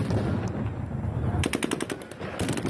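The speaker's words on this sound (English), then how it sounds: "The response, stun grenades and gunfire, causing the crowd to scatter." In occupied Kherson, rapid bursts of automatic gunfire and stun grenade bangs ring out over a crowd, the shots crackling in quick clusters above a rumbling background.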